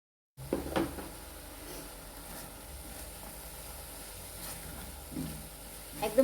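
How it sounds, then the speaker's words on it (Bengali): Spice paste with about three spoons of chili powder sizzles softly in a pan for fish curry while it is stirred, giving a faint steady hiss with a few scraping clunks from the spoon against the pan. "একদম সুন্দর করে নেড়ে চেড়ে এটা কষিয়ে নিতে হবে।"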